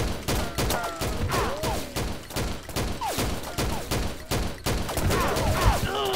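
Rapid, dense gunfire from the online shooter game XSHOT, with an upgraded gun firing bursts and overlapping shots throughout, loud and continuous alongside other game effects.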